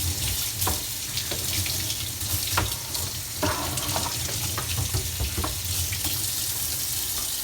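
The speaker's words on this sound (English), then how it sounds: "All right, time for the rinse." Running water pours steadily from a tap while a Telecomet Japanese terminal is rinsed beneath it, a continuous close splashing hiss with small clatters of the part moving under the stream.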